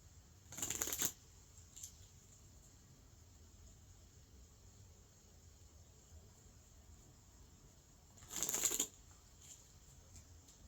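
Two short bursts of a deck of playing cards being shuffled, the first near the start and the second near the end, separated by quiet low room noise.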